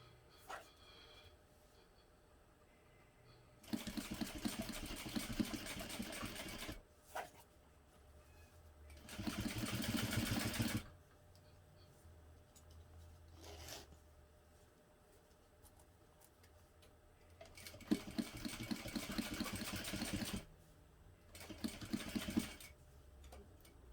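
A sewing machine top stitches a hobo bag in four bursts of rapid whirring, each a few seconds long, with quiet pauses and faint handling between them.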